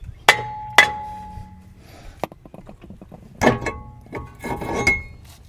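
A hammer strikes the hat of a Hyundai Palisade brake rotor to knock it loose, sharp metallic clanks coming in irregular bursts, two loud ringing hits first, then a cluster of lighter taps and more blows.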